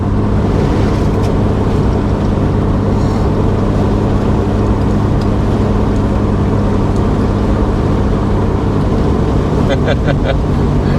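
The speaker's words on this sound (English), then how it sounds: "She's getting scared of the wind noise." Steady broadband rumble and rushing wind noise inside a moving 1974 Volvo 164E on new wheels and tires, loud and continuous throughout, with faint voices in the background.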